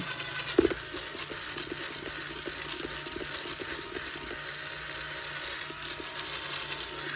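A small high-pitched rotary drill whirs steadily, drilling open the nostril of a vinyl reborn doll head, with a brief louder bite near the start.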